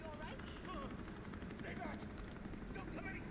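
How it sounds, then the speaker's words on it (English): A helicopter in the Resident Evil 3 video game gives a steady rotor drone that fills the background while game characters speak over it, with occasional sharp game effects. "There's a helicopter waiting to take you to safety."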